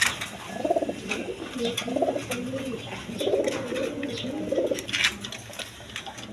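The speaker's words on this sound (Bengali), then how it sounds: "এইখানে আরেক পেয়ার রেশার কবুতর আছে দেখেন কাশ্মীরি রেশার" Kashmiri Reshar pigeons coo close by in a run of repeated low, throaty phrases with a soft, rolling rhythm over faint background noise.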